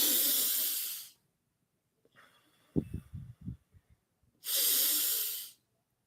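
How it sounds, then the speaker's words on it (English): A person breathing slowly and deeply, with two long, loud, airy breaths close to the microphone separated by a quiet gap holding a few soft mouth clicks and snuffles. "Hold it for the count of 4, and then breathe out."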